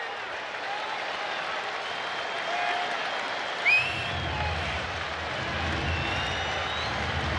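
A crowd of around 40,000 baseball fans at Angel Stadium (the Big A) stands and applauds during an Angels home game against the Oakland Athletics, making a steady, dense roar of clapping and cheering that fills the whole stretch, with a brief swell near the middle.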